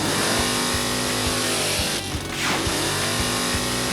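A 1971 Mercury Capri race car fitted with a small block Chevrolet engine rumbles loudly up close at Memphis Motorsports, its engine note holding steady with a brief dip partway through.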